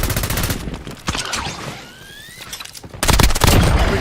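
Gunfire rattles in the video game Warzone, with loud bursts of rapid shots at the start, a quieter lull, and then a heavy renewed volley, all close and without speech.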